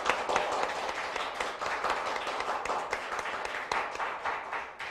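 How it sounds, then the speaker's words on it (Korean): Dense, continuous applause fills the hall from the audience at a nurses' association annual delegates' assembly and forum, many hands clapping steadily and fairly loud for about five seconds with no speech over it. "박수를 부탁드리겠습니다."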